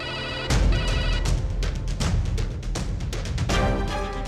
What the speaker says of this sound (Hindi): अखिलेश को फोन करती हूँ।